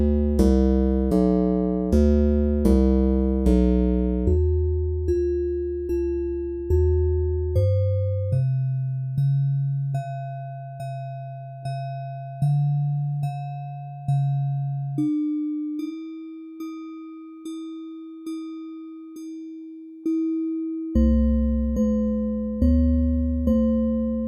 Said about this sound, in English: This stretch dial adjusts how the harmonics are spread across the frequency spectrum